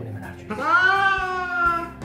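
A single long, wailing cat meow, close and loud, from a cat protesting during a bath, with faint low background noise underneath.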